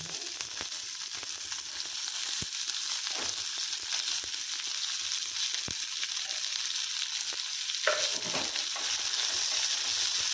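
Sliced onions sizzle steadily in hot oil in a pan for a potato ullikaram, with occasional sharp scrapes and clinks from a spoon stirring them, continuous and close with no talking.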